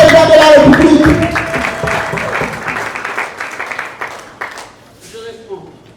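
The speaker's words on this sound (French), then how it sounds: "Acclamez très fort pour le président de la République." An audience applauding loudly for the president of the Republic at a political party gathering, a dense burst of clapping and crowd noise that gradually fades away, with a voice heard over it.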